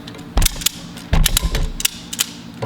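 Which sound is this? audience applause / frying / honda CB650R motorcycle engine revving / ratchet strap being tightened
ratchet strap being tightened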